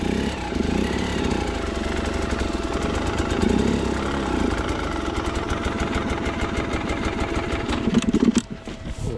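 An enduro motorcycle engine runs close by at low revs, held steady with clutch and throttle in a rough, pulsing putter that stays fairly even before dropping off sharply near the end.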